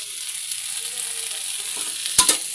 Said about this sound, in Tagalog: niluluto ko to guys ang pagkain namin for dinner